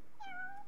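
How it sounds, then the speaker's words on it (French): A cat in the video game Final Fantasy XV gives a single clear, short meow, rising then falling, over a quiet background. "Oh, c'est un chat."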